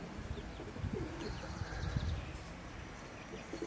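Young pigeons and adult birds in a pigeon loft give low, soft cooing and murmuring throughout, with faint chirps and shuffling in an indoor space; nobody speaks.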